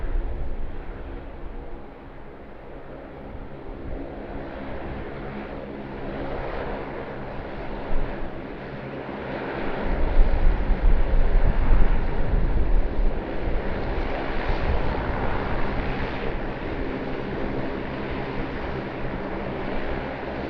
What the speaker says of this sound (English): taxiing out is a Jetstar Airbus A380